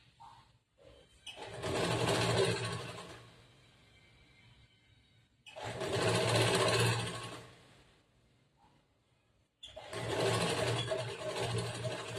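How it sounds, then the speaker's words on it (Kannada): A sewing machine stitches along the edge of a blouse collar in three loud, steady runs of whirring motor and needle clatter, separated by quieter pauses. "ಪೂರ್ತಿ ಎಡ್ಜ್ ಪಾಯಿಂಟ್ಗೆ ಒಂದು ಸ್ಟಿಚ್ ಮಾಡ್ತೀನಿ"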